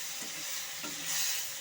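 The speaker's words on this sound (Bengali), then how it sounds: "সমস্ত মশলার সাথে আলু আর ফুলকপিটাকে ভালো মতো করে কষে নেব।" Potatoes and cauliflower sautéed with spices in a pan over low heat give off a steady, close sizzle, with a few soft stirring scrapes.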